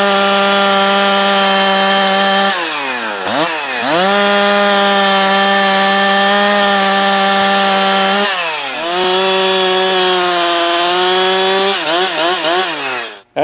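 A chainsaw with a freshly cleaned, repaired carburetor cuts through logs outdoors, its engine holding a steady loud buzz that drops and rises in pitch as the chain bogs into the wood, with several revs and dips across the run.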